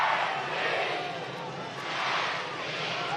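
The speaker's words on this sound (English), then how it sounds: "Crowd really getting into it." Stadium crowd at the USL League One Final soccer match between North Carolina FC and Charlotte Independence, a steady broad roar swelling and easing, loud and continuous throughout.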